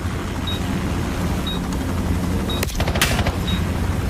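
Gunfire in a Call of Duty search-and-destroy match, with a sharp burst of shots near the three-second mark over a steady background of game ambience, plus faint periodic beeps.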